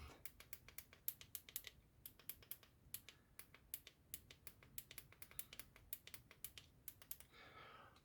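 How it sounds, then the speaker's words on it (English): Buttons on a Nespresso Lattissima One coffee machine are pressed repeatedly during repair, producing quick, sharp, close clicks in an irregular typing-like rhythm, faint and alone in a quiet room. "So we have the clicking sound"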